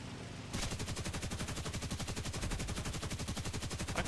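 The lower turret machine gun of a Blenheim Mk 4 bomber in War Thunder fires one continuous rapid burst, a loud, evenly spaced rattle that starts sharply after a brief lull and runs for several seconds.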